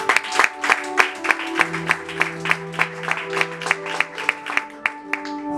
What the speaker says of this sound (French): Acclamons pour la mémoire de notre Maman Nelly.